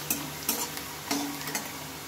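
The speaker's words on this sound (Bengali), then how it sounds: "শুকনো লঙ্কার পেঁয়াজটাকে আগে আমি ভালোভাবে ভেজে নেবো।" Onions frying with dried chillies over high heat, a steady hiss of oil under several brisk scrapes of a spatula against the pan, close and fairly quiet.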